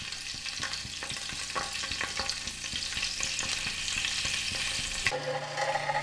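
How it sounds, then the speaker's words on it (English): Ghee and oil sizzle in a frying pan on a stove with a loud, continuous crackling hiss and frequent sharp pops, and the sound shifts near the end as the frying changes. "Once the ghee starts bubbling up,"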